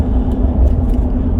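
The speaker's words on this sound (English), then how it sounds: "Well, it's a dump truck" A dump truck engine runs with a steady, loud low rumble heard from close by, continuous with no voices.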